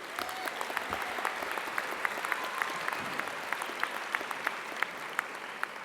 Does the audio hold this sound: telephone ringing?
no